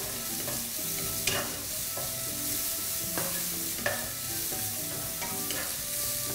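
Bean sprouts stir-fried in a wok with salt and white pepper, a constant close sizzle broken by repeated sharp scrapes and clacks of the spatula every second or so, without any speech.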